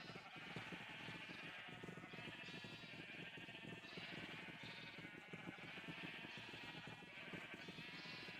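Many Minecraft sheep bleat continuously in an overlapping chorus, a dense, steady wash of game animal calls with no talk over it.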